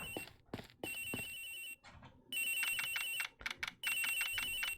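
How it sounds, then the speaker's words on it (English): A telephone rings in the Ace Attorney Investigations video game, repeated bursts of electronic bell ringing in a broken rhythm with short gaps, fairly clear and without talk. "The ringing is coming from somewhere in here, sir."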